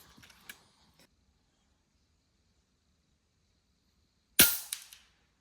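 A single sharp airgun shot cracks loudly at a target during an outdoor shooting weekend, followed by a brief rattling ring-off, after a long silent stretch and some faint earlier ticks.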